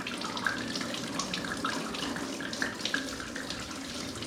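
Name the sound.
coolant pouring from motorcycle radiator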